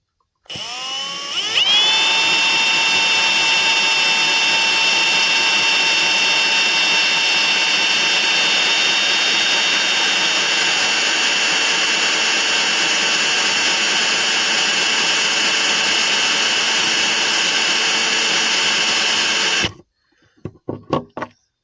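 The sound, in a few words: power drill drilling holes in fiberglass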